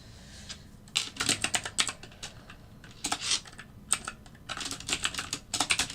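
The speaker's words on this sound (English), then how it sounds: "I was in the middle of actually typing" Fingers tap on a computer keyboard in uneven clusters of quick clicks with short pauses, close and fairly quiet over a soft background hum.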